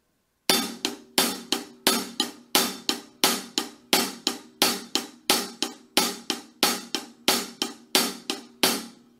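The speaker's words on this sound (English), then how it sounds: "So if I were to play a string of downbeat accents on the hi-hat" A steady string of sharp metallic hi-hat strikes, about two per second, each accented hit ringing briefly before the next, played alone and close.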